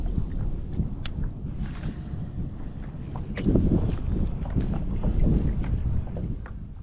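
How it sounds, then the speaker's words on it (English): Gusting wind on a lake during a bass fishing trip, a steady low rush and buffeting against the microphone that swells and eases, with faint splashy knocks scattered through. "The wind has died down a little bit, but it's still gusting."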